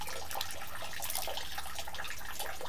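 Water trickles and splashes into a cupped hand at a shrine purification basin in Kagoshima, a steady close pouring sound with light spattering throughout, no voices.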